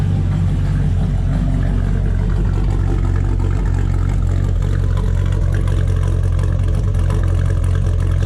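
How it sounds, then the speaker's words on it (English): A cammed LQ4 6.0-liter V8 with Texas Speed heads, still untuned, idles low with a loping, uneven rumble, loud and close throughout with no talking. "It's idling down now. Probably too low for the cam, but it's got the nice cam lope now."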